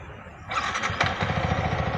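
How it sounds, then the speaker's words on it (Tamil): A Yamaha MT15 motorcycle engine starts midway through and settles straight into a steady, close, throbbing idle. It is heard alone, without talk. "இப்போ நான் வண்டி ஸ்டார்ட் பண்ணுறேன்."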